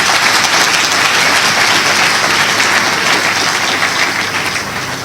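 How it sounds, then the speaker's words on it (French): Loud, steady applause from an audience at an eloquence evening staged as a mock trial in Congo, a dense wash of clapping that holds for the full stretch and eases slightly toward the end. "Merci d'applaudir pour cette jeunesse qui ne s'est pas résignée."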